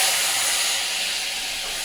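Water hits a hot spice tempering of chillies, curry leaves, asafoetida, turmeric and chilli powder, bursting into a loud, broad hiss that eases slightly as it continues.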